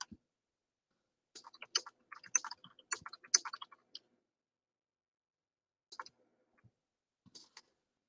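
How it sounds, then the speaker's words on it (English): Computer keyboard typing in quick bursts of close clicks, then sparse isolated taps after a pause, in an otherwise silent room. "Start typing it."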